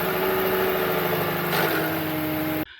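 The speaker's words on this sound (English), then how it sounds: "the actual adjuster inside the camshaft sprocket itself can wear out, and that shows itself as a deep rattly tone" Worn camshaft sprocket adjuster on a Mercedes M271 engine giving a deep, hollow rattle under a plastic cover, running steadily close up with the engine hum until it cuts off abruptly.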